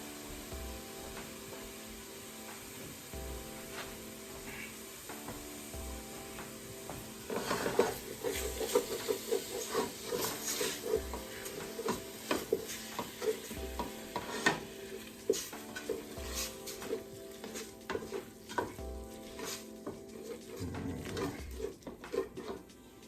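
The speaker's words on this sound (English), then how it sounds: "So we'll start browning this." Lean venison browning in a pot for chili, a soft sizzle under repeated scraping and stirring with metal on the pot, quiet at first and then busier and louder.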